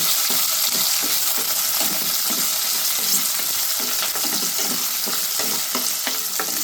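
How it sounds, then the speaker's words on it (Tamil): Garlic, small shallots, green chili and curry leaves sauté in a hot pan for a yam kara kuzhambu, giving a steady loud sizzle broken by repeated scraping stirs, with no talking. "பூண்டு போட்டு சின்ன வெங்காயம், பச்சை மிளகாய், கருவேப்பிலை எல்லாம் போட்டு நல்லா வதக்கணும்"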